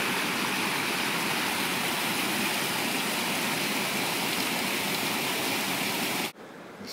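Water rushing steadily through the sluice at Horstead Mill, a dense, continuous broadband roar close by that holds constant before cutting out abruptly near the end.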